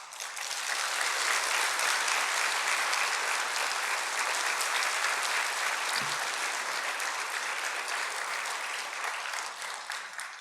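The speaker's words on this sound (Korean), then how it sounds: "오늘 나오셔서 강연하실 때 큰 박수로 환영해 주시면 감사하겠습니다" Sustained applause from a lecture audience welcoming a law professor onto the stage, a dense steady wash of clapping that holds evenly for the whole stretch with no voices over it.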